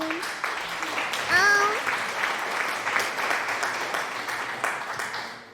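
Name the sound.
clapping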